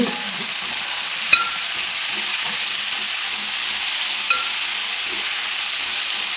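Onions and shallots fry with a steady sizzling hiss in a pan while being stirred, one sharp clink of a utensil standing out briefly over the continuous frying.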